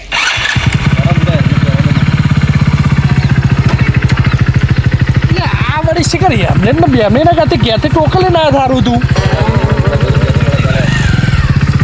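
A loud motorcycle engine runs steadily up close, its rapid thumping rhythm droning throughout while someone talks and sings over it.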